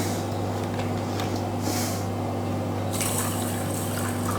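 Vinegar poured from a bottle onto onions salted with rock salt for a Kerala-style onion pickle, a steady soft liquid trickle over a constant low hum, with no talking.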